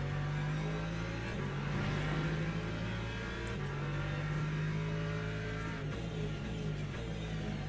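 Hypercar engines race in the Le Mans Ultimate sim, a steady droning whine with shifting tones and occasional upshift blips, continuous and moderately loud, with no voices.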